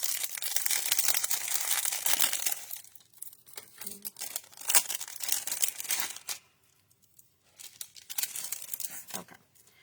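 A bag of card-making embellishments and a pool party ribbon are handled, giving bursts of close, crisp crinkling and rustling, with brief quiet gaps between handling sounds.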